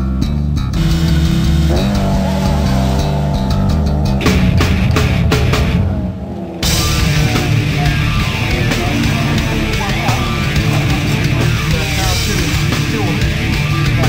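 Proton rally car engines roar and rev past on the Langley Park stage, with shifting pitch as cars accelerate and brake, a brief dip midway, then continuous loud engine noise.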